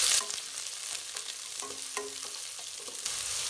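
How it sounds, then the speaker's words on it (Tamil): Two large finely chopped onions sauté in hot oil in a pan, giving a continuous close sizzle with scraping stirs and soft clicks throughout, no voices. "இப்போ 2 பெரிய வெங்காயம் பொடி பொடியாக நறுக்கிடுச்சு. இதை நல்லா வதக்கி விட்டுக்கலாம்."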